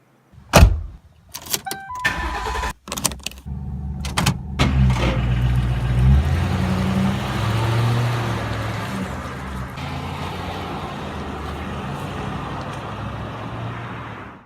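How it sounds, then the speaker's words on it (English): Inside a used ex-police Ford Crown Victoria, a few sharp door clunks are followed by the steady engine and road rumble of the car pulling away and cruising. No one speaks. "let's hop in the car, we'll take a drive"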